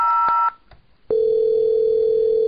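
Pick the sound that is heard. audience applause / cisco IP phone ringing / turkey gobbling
cisco IP phone ringing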